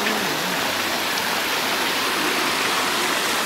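Water flowing steadily in a park, a continuous close hiss and rush with a brief low hum at the start and no talking.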